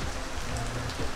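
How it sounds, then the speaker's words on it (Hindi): Heavy rain pours down in a dense, steady hiss, with drops drumming close on hard surfaces during a brief stretch. "बहुत तेज़ी से बारिश हो रही है"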